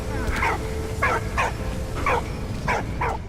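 A dog in the World War I video game Valiant Hearts gives six short, evenly spaced barks, clear and close, with no talk over them.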